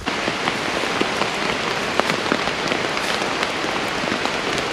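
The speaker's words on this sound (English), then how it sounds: "It's raining pretty good." Heavy rain pours down steadily, a dense hiss with scattered louder drops pattering on a nearby surface, with no voices.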